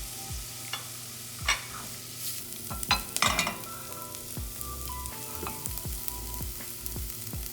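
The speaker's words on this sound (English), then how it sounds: "our oil and butter is pretty hot, so we're gonna add our onions" Chopped onions hit hot oil and butter in a pan for crab risotto, sizzling steadily while a spoon scrapes and knocks against the pan in irregular clinks and stirs, close up with no talking.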